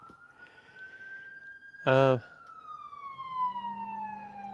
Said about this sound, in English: you hear the ambulance?